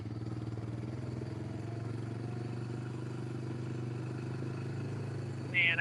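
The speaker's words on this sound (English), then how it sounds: "This is full-time four-wheel drive. Honda 300." A Honda 300 full-time four-wheel-drive ATV engine idles steadily with a low, even putter, close and continuous throughout, with a brief rattle near the end.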